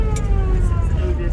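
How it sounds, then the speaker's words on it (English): A car's siren blows steadily as a loud, continuous wailing tone over rumbling road and engine noise, with a few voices in the background. "Turn the wheel slightly to the right to get the siren to blow correctly."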